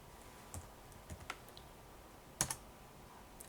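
Computer keyboard keys clicking as a command is typed at a Linux terminal, a few sparse, quiet taps followed by a brief sharper double click, in a quiet room without speech.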